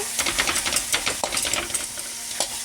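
Drumstick soup ingredients with tomato fry in a pan on a low flame, giving a steady close sizzle broken by repeated scraping stirs.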